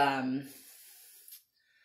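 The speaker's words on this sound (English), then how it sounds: "I just got this really nifty sprayer off of Amazon." A refillable oil sprayer mists oil over garlic dill cheese bread dough in a short soft hiss that fades out, heard just after a voice speaks close by.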